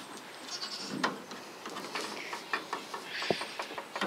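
Goats bleat in several short, strained cries at a farm garden, mixed with rustling and scattered clicks and knocks, moderately distant and fairly quiet, with no talking.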